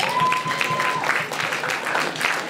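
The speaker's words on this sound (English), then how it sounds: "Let's give Chantal a round of applause." Guests at a university Caribbean banquet applaud a performer, moderately loud scattered clapping with a brief tonal whistle-like note early on and faint murmuring underneath.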